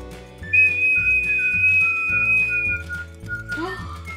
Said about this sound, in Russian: Она реагирует на свисток?